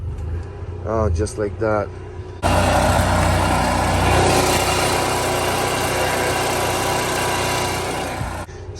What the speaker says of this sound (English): Let me try to start the generator.